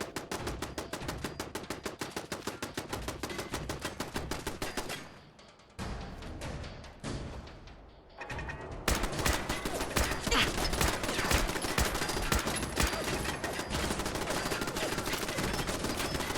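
A turret firing in Fallout 4: a rapid, continuous stream of loud gunshots that breaks briefly and then resumes more intensely, with a voice speaking faintly underneath.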